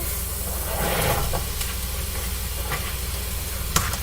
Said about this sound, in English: let me go ahead and add in the zucchini